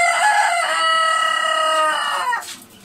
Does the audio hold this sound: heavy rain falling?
no